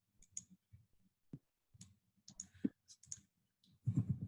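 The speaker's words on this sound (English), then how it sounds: "I'll type it out here" Keys on a computer keyboard clatter in short irregular bursts of clicks with pauses between, moderately close in a quiet room.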